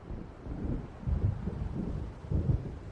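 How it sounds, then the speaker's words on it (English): Low, rolling rumbles of thunder from an approaching storm in Alan Wake Remastered, swelling in several soft waves over a windy, rain-tinged background with no voices. "It seems there's a storm coming."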